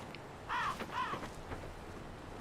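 Raven cawing in the video game Nioh, a few harsh calls close together, fairly faint over a low game background.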